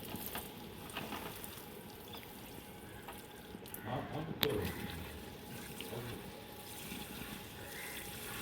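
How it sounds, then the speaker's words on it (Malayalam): Water poured onto a potted variegated Taiwan pink guava plant makes a soft, steady splashing and trickling outdoors, faint and continuous, with a voice speaking now and then. "നല്ലോണം ഒന്ന് നനച്ചു കൊടുക്കട്ടെ"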